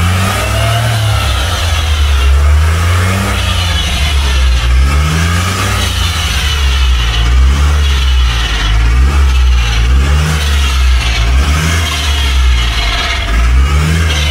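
A Ford Cortina Mk3 fitted with a faulty new rear axle drives along, its engine loud and close with rising and falling revs and a repeated cyclic whine underneath.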